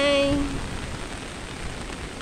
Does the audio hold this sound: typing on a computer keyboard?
no